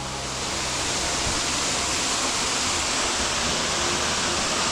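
Steady broadband rush of water at Maunawili Falls on Oahu, Hawaii, a waterfall spilling into a swimming hole with a small tributary draining beside it, heard as a constant, fairly close roar with no talk.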